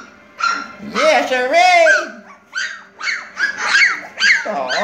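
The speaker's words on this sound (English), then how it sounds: "You just gonna bark!" Young puppies bark and yip in a rapid series of high, excited calls, close and loud, interspersed with short whimpers, while a person talks among them.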